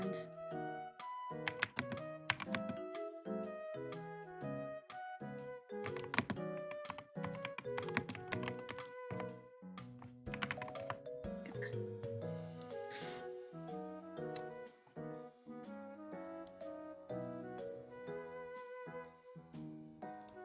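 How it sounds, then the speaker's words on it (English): Fast continuous typing on a mechanical computer keyboard, crisp close-up key clacks in irregular rapid bursts with occasional heavier thunks, running throughout at a fairly quiet level with no talking. "Is yours a mechanical keyboard?"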